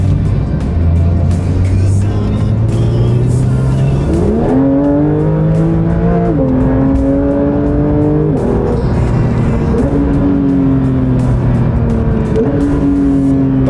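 A Porsche 911 GT3 race-bred sports car accelerates hard on a city street, engine note climbing through several gears in steady rising sweeps with brief shift dips, loud and continuous from inside the car.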